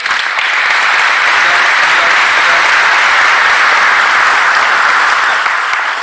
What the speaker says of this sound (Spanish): Ustedes empezaron cada uno aplaudiendo a su ritmo y después todos juntos